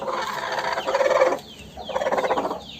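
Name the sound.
Aseel fighting hens in brooding coop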